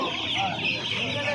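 Chickens clucking steadily at a crowded poultry market, with dense overlapping calls close by and a busy background din throughout.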